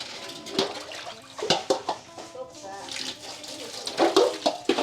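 Beef is washed in water, with splashing and sloshing up close, in uneven surges. Voices talk nearby at times over the water.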